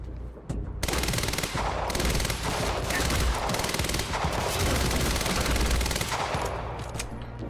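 Rapid automatic gunfire from the Quantum Break video game, with dense sustained bursts and sharp shots filling nearly the whole stretch, loud and continuous with only brief gaps.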